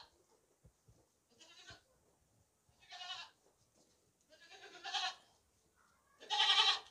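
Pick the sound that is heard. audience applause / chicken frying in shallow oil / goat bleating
goat bleating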